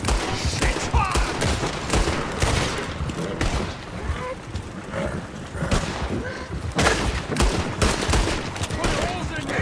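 Rapid bursts of gunfire fill the Red Dead video game scene, loud and dense, with repeated shots and heavy thuds throughout while players talk over the shooting.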